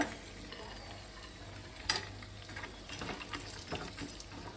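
Cashews being stirred and fried in a pan with cloves and cardamom for Bengali sweet pulao give a faint, steady frying hiss with scattered scraping stir clicks, including one sharper clatter near the middle.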